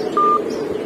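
A single short, steady electronic phone tone, lasting about a fifth of a second over low background noise.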